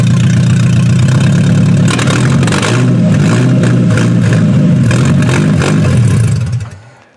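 A car engine runs steadily at idle up close, a loud continuous rumble with light mechanical clatter and slight changes in pitch, before cutting out and fading over the last second.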